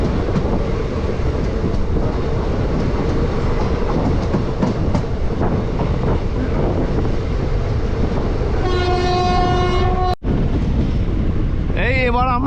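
The 55750 Haldibari–New Jalpaiguri passenger train rumbles along with constant loud wheel and carriage noise, rhythmic clatter, and a horn sounding near the end as it approaches a halt.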